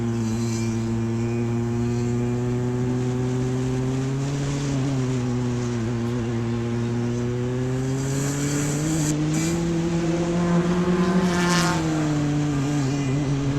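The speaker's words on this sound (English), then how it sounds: "the pace car is going green, and they just went by us" Single-seater race cars on a circuit behind a pace car going green, engines droning with a steady rising and falling pitch as the field passes close by, loud and sustained.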